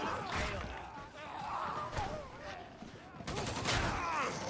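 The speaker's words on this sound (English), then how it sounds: "I like two shotguns right here. I love shooting it." Shotgun fire in a video game: several sharp, punchy blasts over busy game sound effects, with a voice talking faintly underneath.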